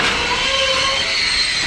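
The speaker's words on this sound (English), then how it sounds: "Bye-bye, train." A passing freight train rumbles and rattles close by at a rail yard in Siberia, a steady loud wash of wheel and car noise with a faint squeal, no voices.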